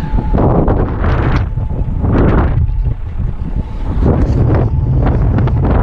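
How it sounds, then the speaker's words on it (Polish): Loud, gusting wind buffets the microphone in heavy rumbling waves, roaring continuously outdoors with no one speaking. "Co za wiatr!"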